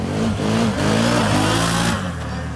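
A Can-Am 1000 automatic quad idles and revs in an empty industrial zone, its mid-pitched engine rising and falling in steady surges, close and fairly loud with no talk over it.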